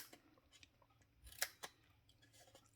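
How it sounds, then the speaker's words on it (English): Scissors snip cardstock in a quiet room, making a few faint, short cuts followed by two sharper, crisp snips close to the microphone, with no talking. "So we cut down here again and we cut this little square off."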